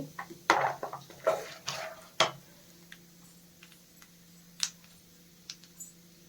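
Fried peanuts tipped from a pan into a bowl, a cluster of loud clattering rattles and scrapes early on, then scattered lighter clinks and ticks, close up in a quiet kitchen.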